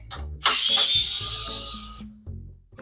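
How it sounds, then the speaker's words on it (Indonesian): A power screwdriver or drill backing screws out of an ATX PC case panel: a loud, bright whirring burst of about one and a half seconds with mechanical clicks around it, close by and with no talk. "Kalau mau ngelepas bagian ini ada 4 baut nih."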